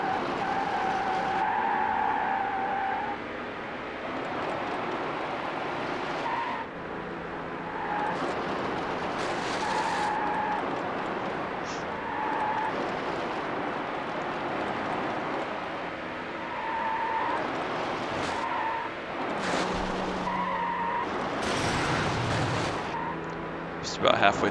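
Race cars in the Need For Speed Hot Pursuit 2 video game skid and squeal through corners over a steady loud engine roar, with several tire screeches rising and fading across the stretch and a voice talking at times.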